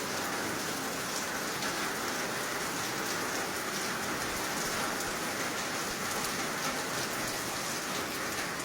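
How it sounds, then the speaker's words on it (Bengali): A heavy downpour patters on a corrugated tin roof, a steady dense drumming that holds unbroken and fairly loud throughout, with no one speaking. "শুনতে পাচ্ছেন টিনের চালের শব্দ?"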